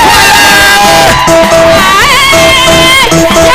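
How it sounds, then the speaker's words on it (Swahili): A loud outdoor church gathering erupts in cheering, with high wavering ululation trills and shouting voices layered close and dense throughout. "Wapi shangwe na vigelegele?"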